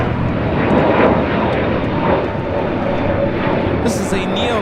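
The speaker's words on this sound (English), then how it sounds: "taking off to Boston, flight 188 on this A321 Neo" An Airbus A321neo jet airliner takes off from LAX, bound for Boston, its engines giving a loud, steady, broadband roar that holds throughout, with a brief hiss near the end.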